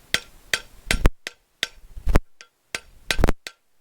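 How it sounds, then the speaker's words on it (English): Sharp metallic hammer blows on a drift driving out the rear axle bearing races of a 1955 Triumph TR2, about nine distinct strikes in uneven bursts, close and loud with short ringing decay, no talk. "I'm going to go ahead and knock those out with a hammer and the drift"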